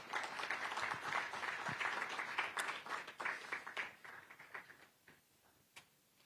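An audience at the ZEDCON 2024 event claps for a United Nations Resident Coordinator, with dense applause that gradually thins out and fades to a few scattered claps.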